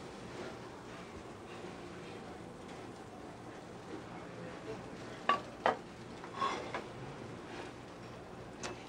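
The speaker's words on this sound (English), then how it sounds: "we just will sear the snapper on both sides for like 30 seconds each" Red snapper fillet searing in a hot pan, a soft steady sizzle with a few sharp clicks and scrapes near the middle, fairly quiet, no talking.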